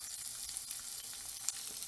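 Onion pieces frying in hot oil with tempering seeds and cumin for paneer fried rice, a steady soft sizzle with faint crackles, close and continuous, no talking.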